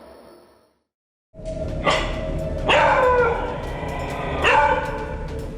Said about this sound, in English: the dog would wake up barking and growling at something in the kitchen